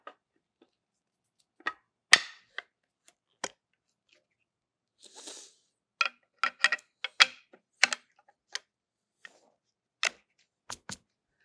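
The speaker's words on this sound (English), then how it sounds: "Now I can put the shotgun back together." Heritage Badlander Field Series shotgun being reassembled after a choke tube change: a sparse, irregular run of sharp, close mechanical clicks and snaps of metal parts fitting together, with quiet gaps between them and no talking.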